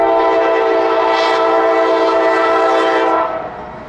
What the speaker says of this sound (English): Mostly auto racks with the Norfolk Southern's Interstate Railroad Heritage engine running behind the leader.